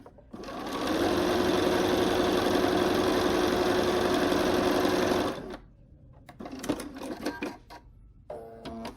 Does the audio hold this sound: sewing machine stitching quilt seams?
yes